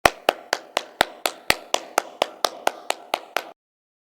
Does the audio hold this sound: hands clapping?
yes